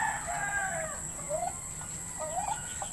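Chickens and a rooster on a small farm give short crowing and clucking calls over a steady, faint background hum.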